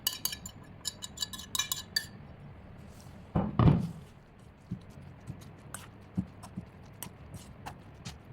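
Dumpling filling with finely chopped cilantro being mixed by hand in a bowl for a vegan dumpling soup, giving irregular soft knocks and clicks against the bowl with one louder thump partway through.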